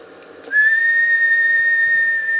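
A steady, bright whistle is blown into a microphone to test a booster amplifier running at 15 volts with an 80-watt input. After a brief click it holds one loud, sustained tone for about two seconds, alone with no talk.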